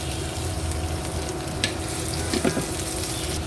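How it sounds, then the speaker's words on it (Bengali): Garlic, onion and chili fry in mustard oil with a dense, steady sizzle close up, joined by a few brief stirring scrapes partway through. "রসুন পেঁয়াজ মরিচটিকে একটু ভালো করে টেলে নেব।"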